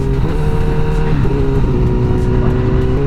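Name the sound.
Honda CBR1000RR motorcycle accelerating, shifting with quick shifter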